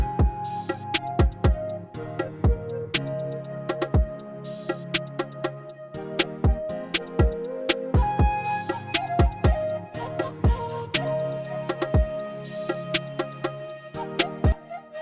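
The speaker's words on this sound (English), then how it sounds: "Is a simple beat, it's unmixed" A simple, dry beat with steady kick and snare hits and a repeating melodic pattern, played alone without voices.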